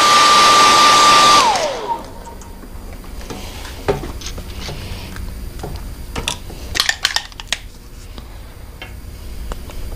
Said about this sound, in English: I want to give it a quick heat set.